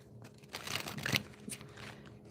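Tarot cards are shuffled by hand close up, giving a quick, crinkly riffling burst of about a second. Softer card handling follows, with no talking.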